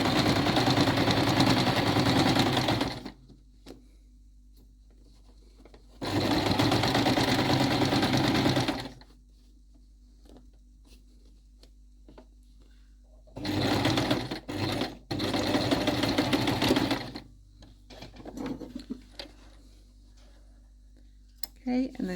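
Sewing machine running bursts while stitching a seam with back tacking at the start, several loud whirring runs of a few seconds each separated by pauses with light handling noise.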